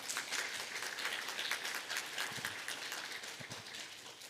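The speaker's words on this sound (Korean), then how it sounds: "이거 박수를 좀 쳐야 되나요?" Church congregation clapping during a Sunday worship service, a soft, fairly distant patter of applause that fades slightly toward the end, with a few faint voices underneath.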